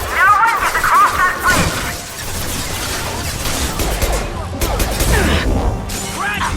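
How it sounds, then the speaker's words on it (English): Loud video game gunfire and a heavy impact shot from Mass Effect, with dense crashes and bursts packed together alongside game effects and voices. "Firing a high-impact shot!"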